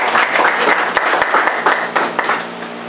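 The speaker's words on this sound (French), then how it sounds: "Acclamez pour l'Éternel," Congregation clapping together in a church service, a steady rhythmic applause of many hands that stays fairly loud for a few seconds and then tapers slightly.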